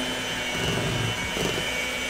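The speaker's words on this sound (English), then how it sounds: "we're going to slowly incorporate the eggs while the mixer is on low" An electric mixer running on its lowest speed through cheesecake batter, giving a steady, fairly loud motor whir that holds even throughout, with no talking.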